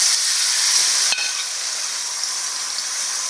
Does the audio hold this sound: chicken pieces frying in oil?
yes